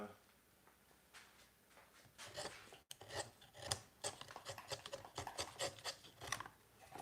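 Hand chiseling into wood in a home workshop, with rhythmic scraping and rasping strokes that grow busier and louder after a brief pause, heard close with occasional low talk.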